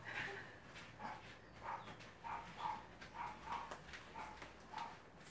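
Dogs bark in a home, a run of about eight short, evenly spaced woofs, faint and somewhat distant, with a steady background hum and no talk over them.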